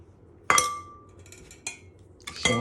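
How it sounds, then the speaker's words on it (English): A drinking glass pressed down as a cookie cutter onto two-ingredient biscuit dough gives three sharp clinks about a second apart, close and fairly loud over a quiet room. "But I don't have a cookie cutter, so I just use a glass."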